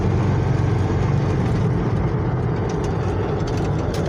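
A GM truck with an SM465 four-speed 4x4 transmission revs its engine toward about 2,000 RPM, a loud continuous low rumbling drone that holds steady throughout with no voices.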